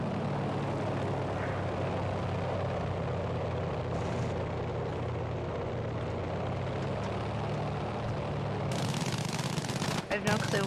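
Battlefield V aircraft engine droning loudly and steadily throughout, with bursts of machine-gun fire and battle noise layered over it, a voice talking beneath, and sharp crackling impacts near the end.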